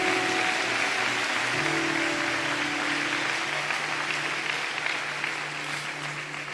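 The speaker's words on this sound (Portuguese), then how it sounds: "Aplauda Jesus." Church congregation applauding steadily at a service with a Brazilian Portuguese sermon, a dense sustained wash of clapping with a faint held musical tone beneath, fading slightly toward the end.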